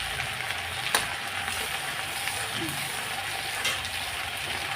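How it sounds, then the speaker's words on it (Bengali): A paste of ground poppy seed, cashew and raisin, with a little melon seed, sizzles steadily in a hot pan as it is fried down, a soft even hiss with occasional faint clicks of a spatula. "এই দিয়ে দিলাম পোস্ত, কাজু কিশমিশ বাটা সব। চাল মগজও দিয়েছি অল্প করে। এবার এটাকে কষিয়ে নেব।"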